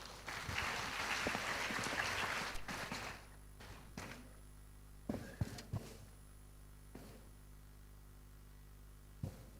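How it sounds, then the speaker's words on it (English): An audience at the Confluence 2.0 conference session applauds to welcome speakers, a dense, moderately loud wash of clapping for about three seconds that drops away into a quiet room with faint hum and a few isolated knocks. "Please welcome them with a huge round of applause."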